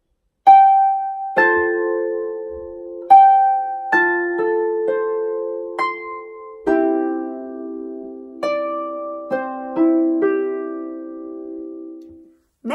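A harp plays a section of Raglan Road as a slow, ringing sequence of plucked notes and arpeggios, with each note sustaining and overlapping the next, clear and close with no talk.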